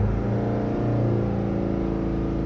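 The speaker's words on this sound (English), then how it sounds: "And now let's check at 3500 RPM." Mazda Skyactiv 2.2 diesel engine held at a steady 3500 RPM, a loud continuous rev with a rich harmonic drone that barely changes, heard close and alone.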